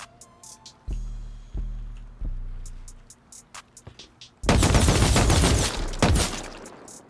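An AK auto-turret in a video game fires at players: a few separate sharp shots ring out first, then a dense, loud burst of rapid automatic fire follows in the back half.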